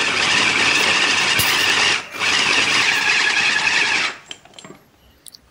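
An electric chopper grinds food until smooth, a loud high-pitched motor whine running in two bursts with a brief pause between, then stopping into faint clicks and handling noises.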